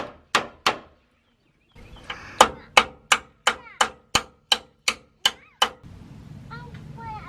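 Sharp metallic hammer blows struck with an impact hammer to drive a part on during radius arm bracket work, a steady run of about a dozen evenly spaced loud hits after two early strikes, with faint background noise.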